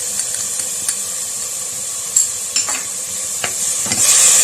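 Chopsuey vegetables with soy sauce and chili garlic sauce being stirred in a hot pan, a steady close sizzle with a few scraping clinks of the spatula and the hiss rising toward the end.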